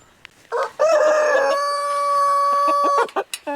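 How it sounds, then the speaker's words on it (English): A farmyard rooster on a mountain farm gives one long, loud crow close by, with hens clucking briefly before and after. "look at the chickens"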